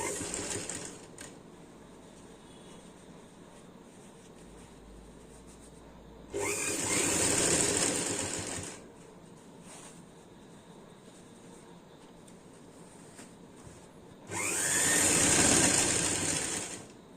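Sewing machine stitching elastic along the edge of ladies' pants, running in two loud bursts of a few seconds each with quiet pauses between, close and alone.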